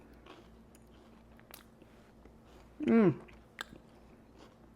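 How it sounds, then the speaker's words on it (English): A person bites into a piece of fresh orange, giving one short, close, moist crunch and chew in a quiet kitchen, followed by a soft appreciative murmur. "Let's taste. I'm going to get me a piece of this orange."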